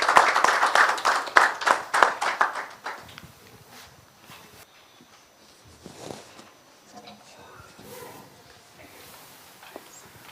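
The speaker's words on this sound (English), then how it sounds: "A round of applause as well." Audience applause at a United Nations conference on South-South cooperation, a dense burst of clapping for about three seconds that fades into scattered claps and murmurs of the room.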